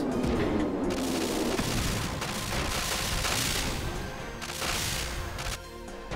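Front Mission 3 battle: dense, continuous weapon fire and booming explosions, loud and layered, with rapid bursts of shots over heavy rumbling blasts.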